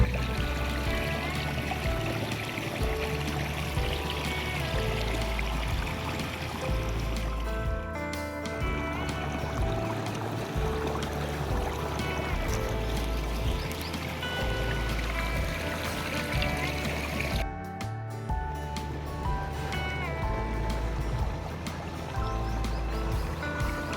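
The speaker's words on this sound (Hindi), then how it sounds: "इस वक्त फसलों को पानी लगाया जा रहा है" Irrigation water flowing steadily into crop fields on a farm near Rawalpindi, Pakistan, a continuous loud rushing and splashing with a low mechanical hum running underneath throughout.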